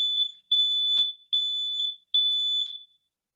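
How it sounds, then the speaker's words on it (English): A smart home burglar alarm siren sounding in loud, piercing high-pitched tones, repeated in four bursts with short gaps between them and no talking. "The siren is probably going to turn on in a few seconds"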